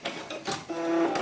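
Short burst of a sewing machine running a backstitch along the shoulder seam of a doll mannequin, a close mechanical whir with a steady tone, brief and stop-start, heard alone.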